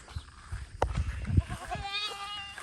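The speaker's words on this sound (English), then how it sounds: "I can hear a baby goat, like a goat sound that's definitely coming from a baby" A baby goat bleats in a farm paddock near a water trough, a thin wavering cry rising over low clunks and handling noises, fairly close and moderately loud.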